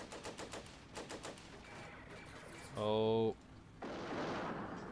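Anti-tank guns fire in the Combat Mission wargame during a French versus German battle: a loud sharp report followed by a harsh metallic burst, then a rushing blast of noise, with brief talk in the clip.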